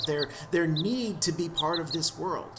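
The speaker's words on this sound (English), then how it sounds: "the light shines through and you hear the baby birds chirping" A recorded sound effect of baby birds chirping, played during a tabletop D&D session: a few faint, high, short tweets come in spaced bursts beneath a voice talking in the foreground.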